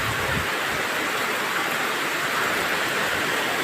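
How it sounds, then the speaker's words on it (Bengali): Heavy rain pours down over a construction site in a steady, dense hiss that stays loud and even throughout, with no talking. "আজকে দেখতেছি প্রচুর বৃষ্টি"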